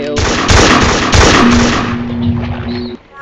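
Gunfire in the Roblox video game, a dense run of loud shots in quick succession filling the short moment, with a sustained tone underneath toward the end.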